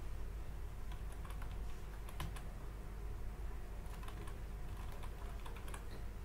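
Clicky typing on a computer keyboard while editing cells in an Excel spreadsheet, with rapid irregular keystrokes in bursts close to the microphone and no talking.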